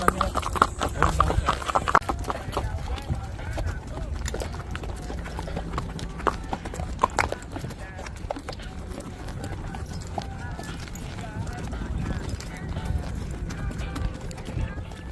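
Horse hooves clip-clop in a steady trotting rhythm on hard ground near Clark, Pampanga, close and continuous, with people talking over the sound throughout.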